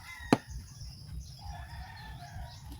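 Roosters crow faintly in the distance amid other fowl sounds, after one sharp tap close by.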